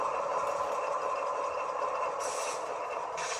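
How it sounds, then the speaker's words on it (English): A Fairbanks Morse H16-44 model locomotive's sound system plays a steady diesel engine drone, with two short hissing bursts like air releases near the end. "have the engine sound running at whatever speed."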